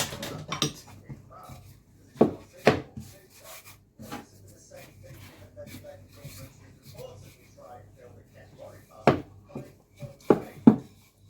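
Soft rubbing and scraping as meat pie dough is rolled out in a kitchen, with occasional sharp clinks and knocks of pans and utensils, while a person talks over it intermittently.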